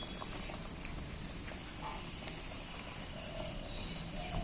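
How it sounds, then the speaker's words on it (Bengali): A spicy curry sauce for egg curry bubbling at a boil in a pot, a quiet, steady popping and simmering close by with no voices. "ঝালটা আমার ফুটছে"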